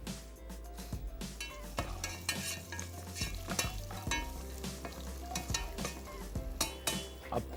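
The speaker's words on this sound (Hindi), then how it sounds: "1 अदद प्याज को बारीक काट के हमने शामिल करना है अपने इस वाले पैन में" Finely chopped onion frying in a pan, a steady sizzle broken by repeated clinks and scrapes of a spoon stirring against the metal, close and busy with no talk.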